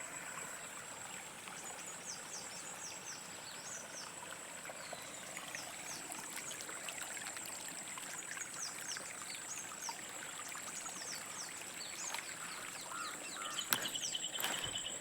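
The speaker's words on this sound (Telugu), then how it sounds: "అది కొంచెం జలపాతం పడినట్టుగా. నీళ్ళు అక్కడి నుంచి పడుతున్నాయి." Water spills like a small waterfall into a stream running beside a corn field, producing a continuous soft rushing trickle with occasional faint bird calls.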